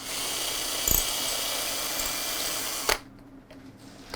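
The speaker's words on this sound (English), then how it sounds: "1/4 inch drill bit, and drill the transverse holes." A power drill with a 1/4 inch bit boring holes in wood whirs at a steady high pitch, then cuts off abruptly, leaving near silence with a faint click afterward.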